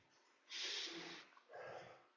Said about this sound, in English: All right, and then going to sniff again.